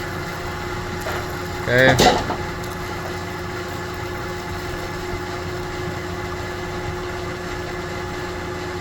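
A lathe runs steadily while cutting a 90 degree shoulder, a constant mid-level engine-like drone and hum with a short louder burst near the start, and someone speaks briefly over it.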